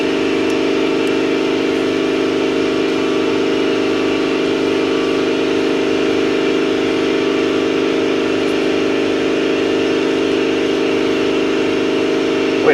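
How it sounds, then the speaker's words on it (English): An air compressor runs steadily in a garage during an oil change on a Kia Sedona, a continuous loud mechanical drone with a constant hum that holds without break throughout. "There's that damn compressor again."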